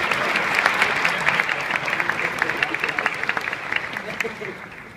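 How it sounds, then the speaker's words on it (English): A choral group at an ACDA 2015 session gives itself a round of applause, with dense clapping that peaks early and gradually thins toward the end. "Give ourselves a round of applause."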